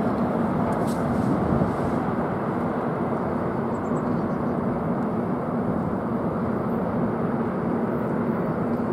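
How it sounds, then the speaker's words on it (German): A heavy freight train hauled by a class 189 electric locomotive passes on the Brenner line, a loud, continuous rumbling roar with steady low-frequency drone that stays close and unbroken throughout. "Also die Züge lassen sich hören, wenn sie von Norden kommen, ey. Alter, wird das laut."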